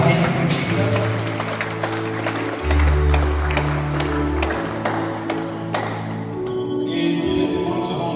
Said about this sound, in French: Clap our hands for Jesus.